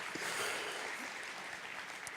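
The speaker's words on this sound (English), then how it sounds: "We don't have time for applause." A conference audience at a Ruby programming event applauds, producing a steady wash of distant, fairly soft clapping that fills the whole moment.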